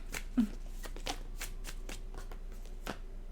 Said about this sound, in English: Every time I do fire signs, all the cards like fly everywhere.